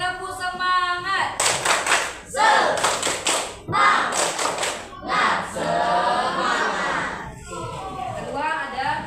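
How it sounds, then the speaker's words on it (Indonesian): Classroom students repeat a rhythmic spirit clap, bursts of group clapping and stamping interleaved with loud chanted voices and a teacher talking between sections. "Sekali lagi, tepuk semangat."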